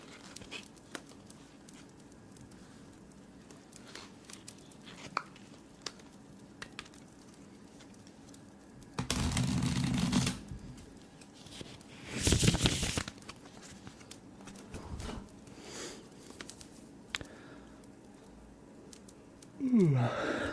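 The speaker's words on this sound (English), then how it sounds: "we're just going to shuffle them riffle shuffle style" A deck of playing cards is riffle shuffled close up in a quiet ASMR setting, with two short crisp ruffling bursts a couple of seconds apart and soft handling noises in between.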